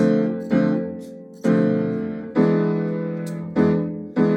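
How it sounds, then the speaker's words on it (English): Low piano notes of a jazz left-hand accompaniment struck one at a time in a slow, uneven rhythm, each ringing and decaying before the next, played alone. "So something you can do is just practice the left hand on its"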